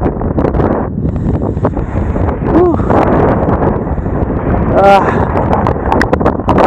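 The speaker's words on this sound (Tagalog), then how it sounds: "Sobrang lakas ng hangin, ang bilis ng musad." Strong mountain wind buffets the microphone in a constant, heavy rush on a high road, with a few faint chirps and brief voices in the background.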